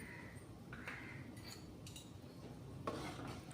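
A spoon stirs tomato saar ingredients with salt and rasam powder in a pot, giving faint scraping and clinking strokes over a steady low background hum.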